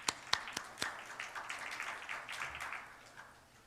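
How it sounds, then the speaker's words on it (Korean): A church congregation at a Sunday youth worship service claps to welcome new members, starting with a few sharp, separate claps that blend into soft, scattered applause and then fade, faint and distant. "우리의 새 가족을 박수로 환영하겠습니다"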